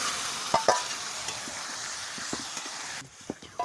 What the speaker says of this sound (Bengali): এর মধ্যে সিদ্ধ করা ডালটা এবারে দিয়ে দিচ্ছি